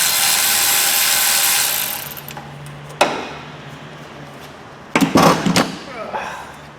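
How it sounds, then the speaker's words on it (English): A ratchet works on a bolt of a Vauxhall Corsa D 1.3 CDTI engine near the auxiliary belt, with a buzzing rush of turning for two seconds, then sharp clicks and a cluster of loud metallic clacks close by. "so I'll get it unbolted"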